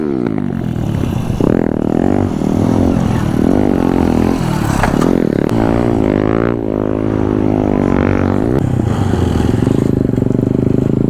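A motorcycle idling and pulling as the clutch is let out fully during wheelie practice, a loud close engine drone that rises and dips in pitch with throttle changes, with faint voices in the background.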